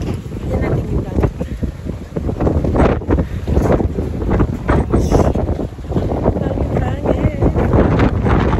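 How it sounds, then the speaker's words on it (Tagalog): Strong typhoon wind at the seaside around Siargao batters the microphone in loud gusting roars over the surf, and a voice talks underneath. "Guys, lakas ng hangin."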